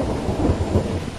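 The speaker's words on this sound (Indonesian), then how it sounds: "tiba-tiba hujan turun dengan lebatnya" Heavy rain at a jungle campsite by a river, a low rolling rumble of thunder over a steady wash of downpour, fairly loud and without talk.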